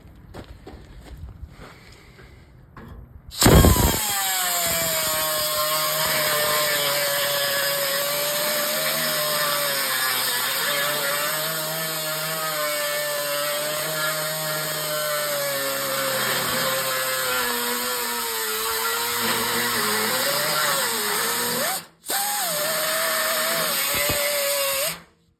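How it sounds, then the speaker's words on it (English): Power tool cutting down welded sheet metal on a 1964 Chevy Impala passenger-side fender, a loud, close, steady high-pitched whine that starts abruptly and runs continuously, with a brief cutoff near the end before resuming. "I'm gonna cut this down now so that it's just even all the way across."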